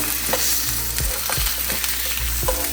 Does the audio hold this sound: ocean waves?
no